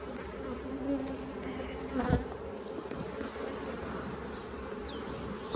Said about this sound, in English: need to get these bees to go down.